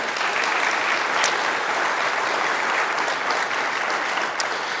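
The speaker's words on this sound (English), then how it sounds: "Would you give them a round of applause" An audience at a nursing school pinning ceremony claps in dense, sustained applause that stays even and loud for the whole stretch, with no voices standing out.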